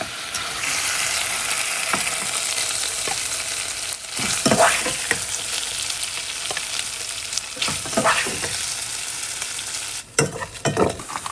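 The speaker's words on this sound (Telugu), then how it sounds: "జింజర్ గార్లిక్ పేస్ట్ కొంచెం. నేను బాగా ఫ్రై చేసుకోవాలి." Ginger garlic paste fries in a pan, giving a steady, close sizzle with a few sharper stirring scrapes rising above the hiss now and then.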